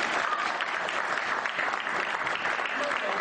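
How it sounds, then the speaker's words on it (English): A crowd breaks into dense, sustained applause for a man called up on stage as a volunteer at a live show, loud and continuous throughout. "Give him a big round of applause."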